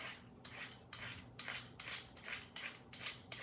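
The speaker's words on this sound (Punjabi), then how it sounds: "ਇਹਨਾਂ ਦਾ ਛਿਲਕਾ ਉਤਾਰਨਾ ਬਸ ਹਲਕਾ ਹਲਕਾ ਹੀ ਆਪਾਂ ਇਹਨੂੰ ਉਤਾਰਨਾ ਹੈਗਾ ਆ" A knife or peeler scrapes the skin off bitter gourds (karela) in quick repeated strokes, a crisp rhythmic rasp about three times a second, close and clear with no talking.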